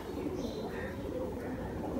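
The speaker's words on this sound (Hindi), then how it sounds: "ये हमारे अपने कबूतर हैं" Pet pigeons of a Chinese (cheen) breed coo softly and continuously against a low murmuring background.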